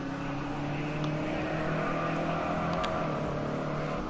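The number 12 SRT BMW M6 race car runs during practice at Daytona, a steady engine drone with faint higher whine, heard at moderate distance and fairly quiet throughout.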